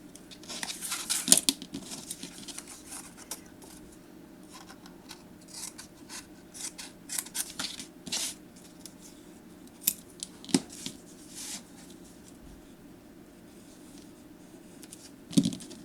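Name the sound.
scissors trimming paper for a memory book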